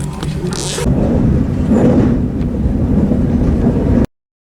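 A train rides along its rails, giving a steady loud rumbling roar heard from on board with a low mechanical drone throughout, then cutting off abruptly near the end.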